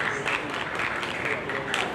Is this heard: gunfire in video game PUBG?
no